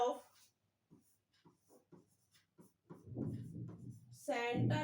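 Marker or pen writing on a board during a Class 9 maths lesson on coordinate geometry, scratchy strokes mostly under a teacher's spoken explanation, growing louder toward the end.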